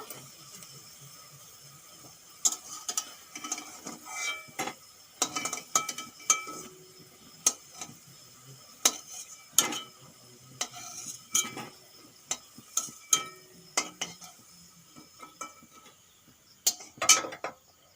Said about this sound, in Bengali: এগুলো ভাজা হয়ে গেছে এখন আমি তুলে নেব